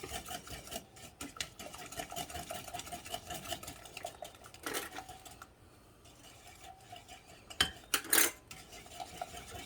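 Eggs and sugar are beaten in a bowl for a Southern pecan pie, giving faint, steady clicking and scraping of a utensil against the bowl, with a few sharper clinks near the end and no talking.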